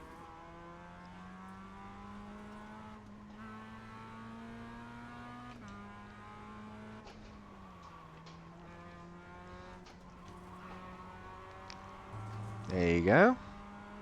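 Race car lapping Virginia International Raceway North, heard from inside as a steady engine drone that shifts pitch with gear changes and braking, ending in a louder rising rev, with a driver speaking quietly.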